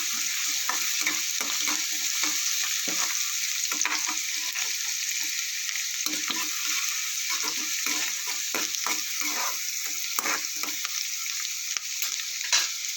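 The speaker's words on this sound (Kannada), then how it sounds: "ಕಟ್ ಮಾಡ್ಕೊಂಡಿರೋಂಥ ಈರುಳ್ಳಿ, ಇವೆರಡನ್ನು ಸ್ವಲ್ಪ ಫ್ರೈ ಮಾಡ್ಕೊಳ್ಳಿ." Chopped onions fry in hot oil in a pan for goat blood fry, a dense steady sizzle with repeated scraping stir strokes throughout, close and fairly loud, with no talking.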